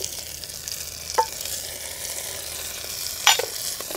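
Onions and ginger pieces fry in a pan with a soft, even hiss, broken by two brief utensil clicks or stirs, close by and without speech.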